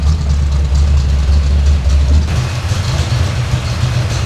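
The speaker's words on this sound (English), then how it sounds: "If I can get that carburetor to play nice, it would sound a lot better at idle" A carbureted engine in a young builder's first motor idles steadily nearby, a loud, constant low rumble that shifts slightly in tone partway through and carries no voices.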